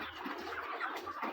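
Five-week-old broiler chickens in a poultry pen give soft, scattered clucks and chirps, faint and close, over a steady background hiss.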